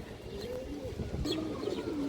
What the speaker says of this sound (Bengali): এই দেখেন ফুল ডাউন শেপের কবুতর, বড় সাইজ